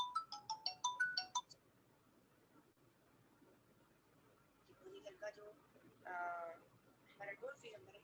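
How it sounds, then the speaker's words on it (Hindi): Phone ringtone of an incoming call rings in a few quick melodic bursts at the start, moderately loud, followed by faint scattered sounds and some brief voice-like bursts. "मे बी 1 मिनट किसी का फोन आ गया था"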